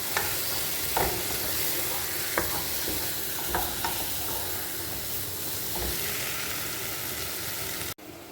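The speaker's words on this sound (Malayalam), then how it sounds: "അങ്ങനെ ഞാൻ നല്ലതുപോലെ മൂത്തപ്പോൾ കുറച്ച് കൂർക്കയും കൂടി അതിനകത്തോട്ട് ചേർത്തു." Chinese potatoes (koorka) fry in masala in a pan, a soft, constant hiss of sizzling overlaid with several scraping stirs, before the sound cuts off sharply near the end.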